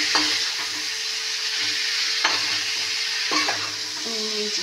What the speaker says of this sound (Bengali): মশলার সাথে কষিয়ে নিচ্ছি।